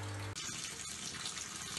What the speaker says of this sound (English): As you can see, the pool is filling up with water.